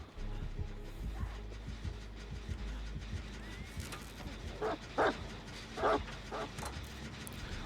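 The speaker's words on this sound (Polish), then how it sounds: "To pies jest tylko" A dog barks and whimpers several times at moderate distance, short yips and bow-wows scattered over a low background hum, no speech.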